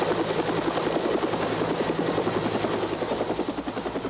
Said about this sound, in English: a helicopter flew at 24 feet above the river at Indian Dunes